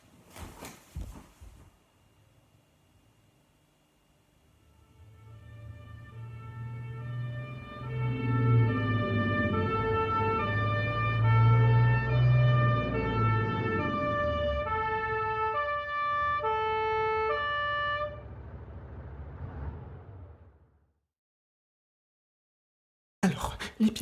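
A fire engine siren swells up from near silence into a loud, close two-tone wail that alternates steadily for about fifteen seconds, then cuts off abruptly and leaves a short quiet gap.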